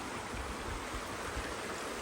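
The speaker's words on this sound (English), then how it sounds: "Oh, nice little stream" A small stream flows along a hiking route near Scafell Pike, a soft, even rush of water heard faintly and steadily with no voices.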